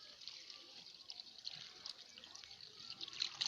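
Water pouring and splashing while a car battery is rinsed out, a continuous bright hissing trickle with small splashy bursts, close and steady for a few seconds.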